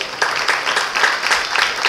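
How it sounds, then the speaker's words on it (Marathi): An audience applauds at a cultural anniversary ceremony, with steady, dense clapping from a crowd that stays fairly loud and even for about two seconds. "त्यांच्याकरता आपण जोरदार टाळ्या वाजवूयात."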